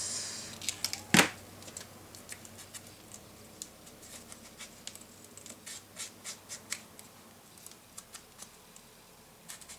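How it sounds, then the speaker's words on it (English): Paper being cut for a Graphic 45 Imagine scrapbook mini album, opening with one loud close snip, then a steady run of light, quick scissor snips and paper rustles. "Now I'm going to cut."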